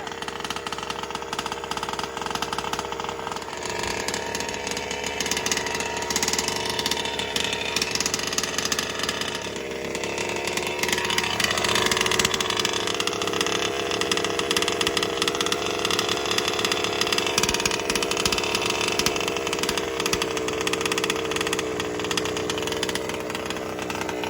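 A 32cc piston-port two-stroke engine with an end-bleed setup runs steadily and loud, holding a buzzing chainsaw-like drone that swells to higher revs partway through, with no talk over it.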